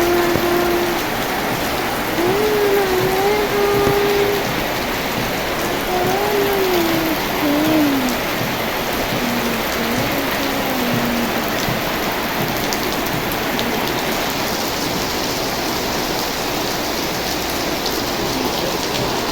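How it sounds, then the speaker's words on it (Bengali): Steady rain falls continuously for the whole stretch, a dense even hiss of drops on surfaces, with faint birdsong chirps drifting in early on and no voices. "দেখেন কি সুন্দর বৃষ্টি হইতেছে।"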